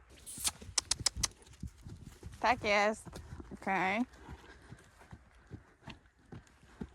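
A horse working on a lunge line over ground poles clip-clops in a steady walking rhythm of sharp, close hoof strikes, and two brief whinny-like calls cut in while someone speaks Polish.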